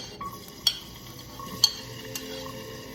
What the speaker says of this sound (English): I'm gonna saute it, not until like it gets color or anything, but just until it gets like soft.